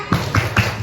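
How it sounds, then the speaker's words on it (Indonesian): Children at a school activity clap the 'tepuk semangat' routine, three close rhythmic claps in quick succession, moderately loud in a room. "Tepuk semangat ingat nggak?"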